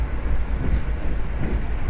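A stainless steel new-generation economy train runs at about 116–117 km/h between Bandung and Yogyakarta, heard from inside as a loud, steady, even rumble with no sharp clatter.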